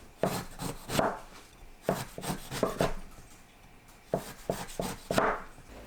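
A knife slices cucumber on a cutting board in quick bursts of sharp, crisp taps, a short pause, then another run of cuts.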